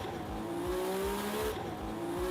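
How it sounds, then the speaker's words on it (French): A street-racing car at night burns rubber and pulls away, giving a steady, loud engine drone with a rising tone and tire noise under it, sustained and close, with no voices. "il brûle de la gomme et il part comme une balle."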